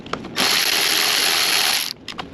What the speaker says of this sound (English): we'll take these little T25 screws out of the top right here.